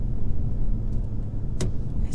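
A Shelby GT500 engine drones loud and steady under acceleration from inside the car, with a short sharp click partway through.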